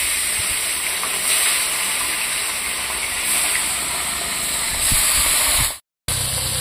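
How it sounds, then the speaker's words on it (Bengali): Fish seasoned with turmeric and salt frying in hot oil in a wok, a steady loud broadband hiss and sizzle that holds throughout, then cuts out abruptly to silence for a moment near the end before resuming. "এদিকে তেল গরম হয়ে গেছে কড়াইতে, আমি মাছগুলো দিয়ে দেব"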